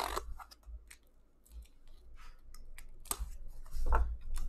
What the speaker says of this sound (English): We will be using scissors again